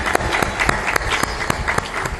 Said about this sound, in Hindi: सबके लिए एक साथ ताली बजा